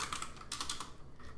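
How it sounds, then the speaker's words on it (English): Rapid typing on a computer keyboard while entering text, a quick close burst of soft key clicks in a steady run. "So let's just start typing it in."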